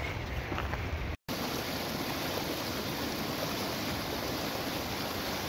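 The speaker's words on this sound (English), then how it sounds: "Roaring snow melt coming from the north side" Roaring cold snow-melt stream in the Grand Canyon, a dense, continuous rushing of water close by that fills the whole scene, briefly cut out once, with no voices.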